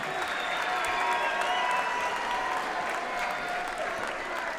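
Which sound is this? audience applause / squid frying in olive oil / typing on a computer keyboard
audience applause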